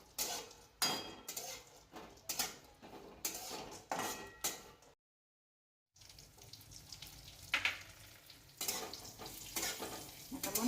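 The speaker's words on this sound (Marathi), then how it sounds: "काजू पण थोडेसे घ्यायचे परतवून कमी गॅसवरच परतवायचे" Cashews and almonds being roasted in a pan over low heat give a soft, quiet frying hiss broken by repeated scraping strokes of a spatula, pausing with a gap of silence before the stirring resumes.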